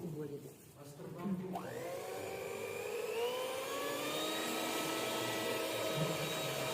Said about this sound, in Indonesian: Kemudian kita mixer dengan kecepatan tinggi.